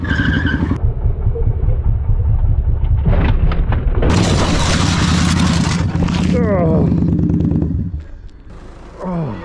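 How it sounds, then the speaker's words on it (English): A motorcycle skids into a road corner and the rider behind crashes: loud engine roar, a sharp scraping skid and impact crash, then a voice shouting near the end. "this biker skids a little into a corner, but the rider behind him isn't ready for it"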